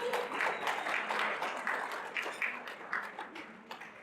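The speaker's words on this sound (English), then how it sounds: "So you can give yourselves a big round of applause." Audience applause at a general session event, a dense, steady patter of many hands clapping that thins toward the end, fairly close and alone.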